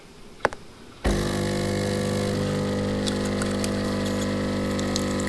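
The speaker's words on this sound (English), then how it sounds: "Brew espresso. You ain't gotta hold the button," Espresso brewing in Rag's coffee machine in the DayZ video game: a soft click, then a steady loud mechanical pump hum with a gurgling hiss that runs unbroken to the end, with no talking.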